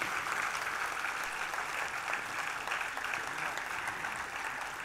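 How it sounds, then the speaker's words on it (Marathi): Loud, sustained audience applause fills a hall at the launch of Asha Bhosle's book 'Svarswamini Asha', a dense, steady clapping from a large crowd with no voices over it. "जोरदार टाळ्या हरीशजींसाठी आपण वाजवल्या पाहिजेत."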